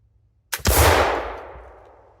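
A .54 caliber smoothbore flintlock fires: a brief pan flash crackle followed almost instantly by a loud, heavy boom that rolls off in a long decaying echo outdoors.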